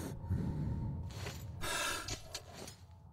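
A player character in the video game Metro 2033 breathes heavily, with ragged, close inhales and exhales over a low, continuous game ambience.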